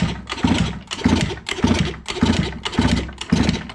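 A Piaggio Liberty scooter's small engine, which won't start, is kicked over repeatedly, about seven rhythmic sputtering bursts in a row, close and fairly loud, without catching into a steady idle.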